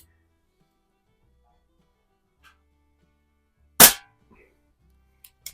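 An air gun fires a single sharp, close crack at a can target, standing alone in near silence, followed by a couple of faint small ticks.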